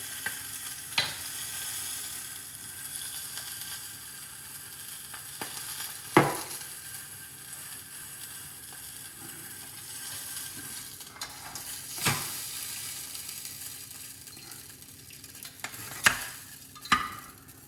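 Scallops pan-frying in their shells, a soft continuous sizzle close by with a few sharp clinks and scrapes of utensils against the pan scattered through, no speech.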